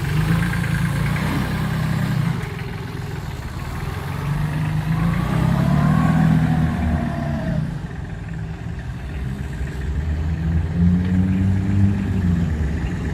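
A Solis 26 mini tractor engine runs steadily during a test drive, a low continuous rumble with mild rises in revs, near and fairly loud, with no talk over it.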